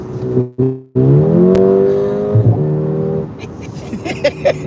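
A sports car exhaust in Sport Plus mode revs up sharply after a couple of short blips, a loud throaty roar that climbs in pitch and then settles into a rumble, in Dubai.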